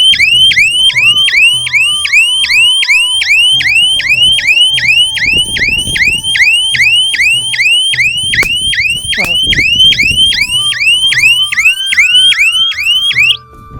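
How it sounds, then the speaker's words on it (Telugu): A solar fence energizer's buzzer alarm on farmland, sounding because the fence wire is earthing, wails in a loud, continuous warbling siren-like cycle, repeating rapidly and steadily for the whole stretch before cutting off at the end. "అందుకే బజర్ వస్తుంది"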